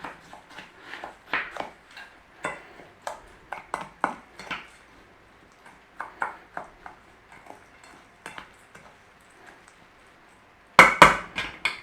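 Spoon scraping and clinking through cabbage and bacon casserole ingredients with melted butter in a bowl, a long series of short, close, uneven clatters with a louder burst of knocks at the end, no voices.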